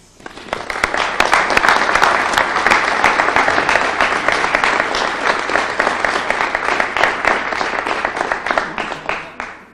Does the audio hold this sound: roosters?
no